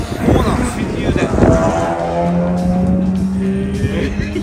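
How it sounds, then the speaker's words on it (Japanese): A Nissan Laurel on Honjo Circuit revs sharply as its engine is blipped during a heel-and-toe downshift, then holds a steady rising engine note. Voices talk at the start. "シフトダウンしましたでバーンって吹かす"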